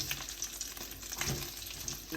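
Dry red chillies, ginger and garlic fry in a hot pan, giving a dense, steady sizzle with light stirring scrapes throughout.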